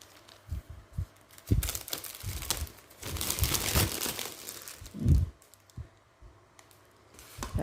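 Sugar and coconut milk are squeezed and kneaded by hand for pumpkin custard, giving close, irregular squelching and crinkly squishing bursts with brief pauses between handfuls.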